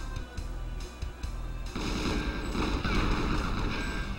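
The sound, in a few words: boxes exploding in GoldenEye 64 video game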